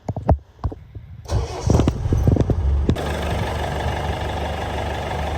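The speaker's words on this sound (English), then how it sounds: "We'll start the car up, and we'll see if it actually works" A car engine cranks over with a few clicks and a brief starter whir, then catches and settles into a steady idle, loud and close, with no talk.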